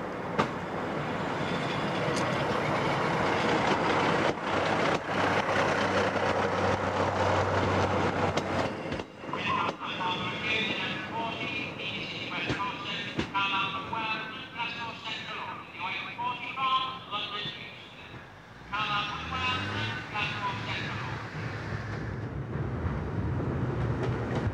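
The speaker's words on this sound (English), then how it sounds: "Diesel sprinters operate the line to Windermere" A diesel Sprinter train running on the Windermere line through the Lake District, a steady rumbling drone with rail noise and a brief dip midway before the engine sound returns.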